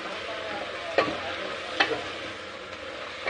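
Onions with salt sautéing in a pan for mutton curry, a continuous soft sizzle with a couple of distinct spatula scrapes, close up and with no voices.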